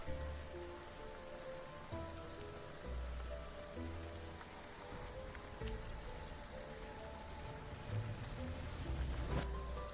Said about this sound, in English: Night and rain is fine.